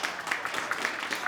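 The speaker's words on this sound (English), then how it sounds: "Let's give her applause." A town hall audience for a Kansas state senate district breaks into dense, steady applause, many hands clapping together at a moderate distance for a short stretch, with no voices on top.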